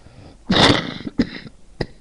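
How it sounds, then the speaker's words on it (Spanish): A harsh, raspy smoker's cough bursts out, followed by two shorter hacking coughs spaced apart, close and fairly loud. "Este es tos de fumador."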